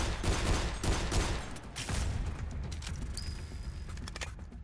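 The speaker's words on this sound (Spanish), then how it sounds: "a mí me están disparando de todos los lados" Dense enemy gunfire in the shooter game SYNTHETIK, a rapid, overlapping fusillade of shots that fills the whole stretch with loud, continuous crackling and mechanical clatter.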